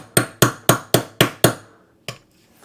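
A dirty Glock pistol's parts are tapped sharply to knock out carbon: six evenly spaced, ringing metallic knocks in quick rhythm, then a pause and one lighter final tap, close and loud with no talking.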